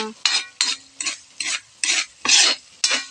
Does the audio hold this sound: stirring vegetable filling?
yes